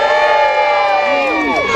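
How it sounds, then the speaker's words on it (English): An outdoor crowd of adults and children at a staged cowboy knife-fight show at an Edwardian picnic at Cardiff Castle cheers for Sheriff Vance, a loud, sustained mass of shouts and whoops. "Gotta get a cheer for Sheriff Vance!"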